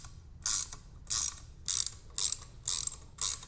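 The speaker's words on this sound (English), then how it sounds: "And now we're going to thread in the T25s." A ratchet drives T25 screws into a C5 Corvette seat track, giving six evenly spaced bursts of rapid clicking, close and distinct, with brief pauses between strokes.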